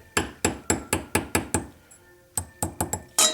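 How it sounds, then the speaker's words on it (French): A hammer taps a small unannealed metal earring ring on a draw plate, about a dozen sharp, evenly spaced metallic strikes in two bursts with a brief pause between, close and clear with no talking. "si je tape au marteau, il est bien évident que ce petit anneau va s'ouvrir"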